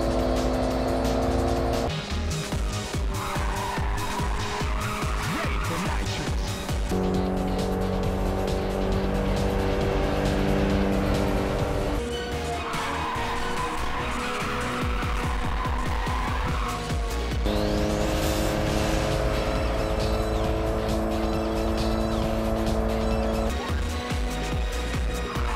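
Racing cars roar and drift in the PSP game Ridge Racer, with engines rising and shifting through gears and long tire squeals and skids repeating over a continuous loud mix, without speech.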